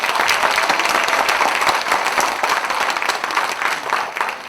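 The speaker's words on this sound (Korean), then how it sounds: "박수 부탁드립니다." A crowd applauds steadily and loudly for a deputy-leader candidate at a party election campaign rally in Incheon, a dense, continuous clapping that holds for several seconds before easing slightly.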